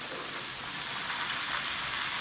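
Cut bottle gourd stalks hit hot oil tempering in a pan, giving a steady close sizzle and hiss that swells slightly as they fry, with no talking.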